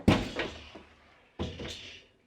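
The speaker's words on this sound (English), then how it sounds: "Let's have a deeper look inside and open the door." The door of a Convotherm maxx combi oven opens with a close, solid clunk as the latch releases, followed a moment later by a second duller thunk as the door swings fully open.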